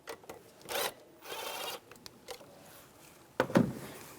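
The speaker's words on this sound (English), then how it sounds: "Then take these worm clamps off here, use an 8mm socket." Socket wrench with an 8mm socket loosening worm-gear hose clamps on the bypass hoses of a 2008-2017 Buick Enclave, heard as soft scattered rasps and metallic rubbing with a sharper clicking burst near the end.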